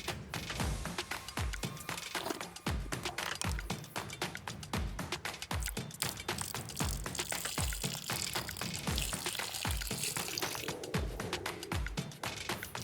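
Water is poured over an Olight Imini 2 flashlight in a water test, a close, loud, continuous splashing and gushing with irregular thumps and spatters throughout.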